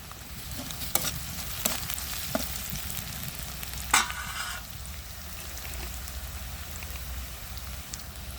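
Onion, ginger, garlic and bay leaves fry in hot oil with a steady soft sizzle, broken by a few sharp stirring scrapes and clatters, close and moderately loud, with no talking.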